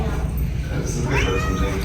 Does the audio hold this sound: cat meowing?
yes